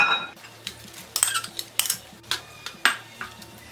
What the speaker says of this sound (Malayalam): ഇനി നമുക്കിതിലേക്ക് ഈ അരിഞ്ഞു വെച്ചിരിക്കുന്ന പൈനാപ്പിൾ ഇട്ട് കൊടുക്കാം